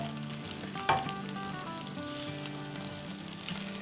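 A whole goat leg roast fries in spices on a stovetop, a steady close sizzle with one sharp clatter near the start as it is handled or turned, no talking.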